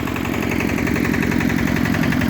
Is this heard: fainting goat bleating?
no